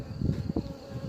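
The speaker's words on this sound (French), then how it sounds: "les abeilles là, on va les faire partir" Honeybees buzz around an opened hive of a struggling new swarm colony, a steady low droning hum of many wings close by with a few louder passes.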